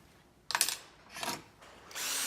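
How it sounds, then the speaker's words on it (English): A power drill bores through steel on a Tennant T300 scrubber, giving three short bursts of high whining drilling spaced apart, close and fairly loud, with no talking. "drill straight through."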